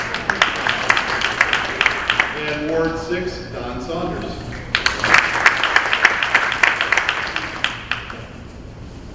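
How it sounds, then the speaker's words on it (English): Audience applause for city council members at a State of the City address, starting as scattered claps, building into a fuller round of clapping, with a voice announcing names over the start. "Oh, you can clap."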